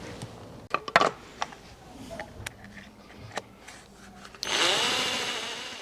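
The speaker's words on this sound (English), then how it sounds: "I'm just drilling a pilot hole for the self-tapping screws." A power drill bores a pilot hole for self-tapping screws in a solar panel mounting foot. A few light clicks and knocks come first, then the drill whirs loudly and steadily at close range for over a second, alone without talk.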